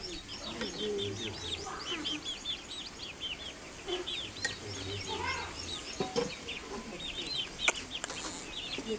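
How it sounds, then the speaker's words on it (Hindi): Chicks and hens cheep and cluck close by in a Hindi-speaking household during a rice meal, with rapid high peeps repeating throughout, soft low clucks beneath, and occasional clatter and voices around. "ये चूजे तंग कर रहे हैं।"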